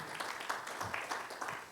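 A church congregation claps together in a fairly faint, steady patter of applause that carries through the worship space, with faint voices underneath.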